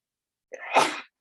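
A single close, forceful sneeze bursts out, sharp at the start and trailing off within about half a second, with silence around it.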